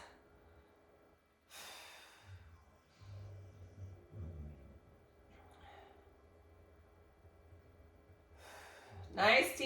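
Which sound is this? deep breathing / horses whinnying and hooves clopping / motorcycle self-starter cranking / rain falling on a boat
deep breathing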